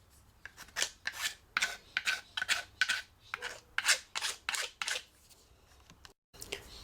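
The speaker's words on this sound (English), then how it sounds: "Now just use a file to take all the roughness off the sides of your" A hand file rasps along the rough cut edges of PVC pipe in a steady series of short, scratchy back-and-forth strokes, close and fairly quiet.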